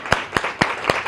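Audience applause at a computational biophysics workshop, heard as four evenly spaced, fairly soft claps over a quiet room.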